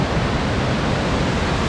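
Water crashes steadily down Blue Hole Falls near Elizabethton, Tennessee, a dense, loud, unbroken roar that fills everything close by.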